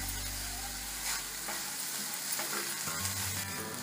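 Sweet sabudana is stirred in a pan after a spoonful of milk is added. A steady soft sizzle runs under gentle scraping and mixing sounds, close by and with no talking.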